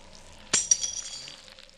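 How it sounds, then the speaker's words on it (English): Glass shatters suddenly in the Parasite Eve II video game, one sharp crash followed by a few tinkling fragments that fade over about a second, heard alone over a quiet low ambient hum. "I just heard something shatter."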